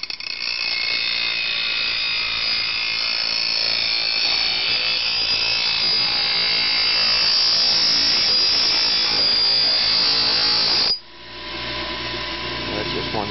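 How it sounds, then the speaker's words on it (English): A bench grinder worked freehand without the stand along a lawn mower blade, a loud continuous abrasive grinding that runs for about eleven seconds, then drops to a lower spinning whir as the blade lifts away. "I just utilize the grinder freestyle without the stand, and I'll do a pass"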